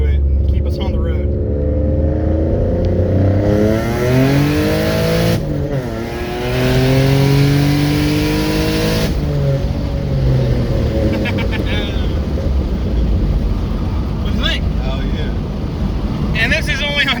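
A turbocharged 3.7-litre V6 Mustang on a dyno roars close and loud, its pitch climbing through repeated acceleration sweeps, under steady wind-like rushing and some talk.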